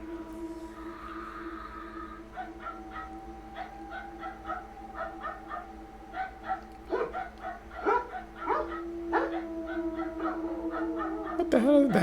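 A dog barking in a short, eerie phone-recorded scene, with repeated sharp barks and yips at irregular intervals over a quiet background, growing louder and more frequent toward the end.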